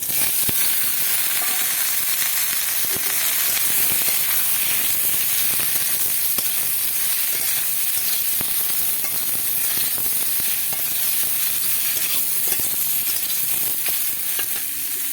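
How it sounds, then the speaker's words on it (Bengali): Ridge gourd pieces added to hot oil in a Bengali kitchen, frying alongside fried lentil dumplings, give a steady, dense sizzle with scraping stirs throughout, loud and close, with no talking. "এবার এই তেলের মধ্যে আমি এই ঝিঙেগুলো ঢেলে দিচ্ছি"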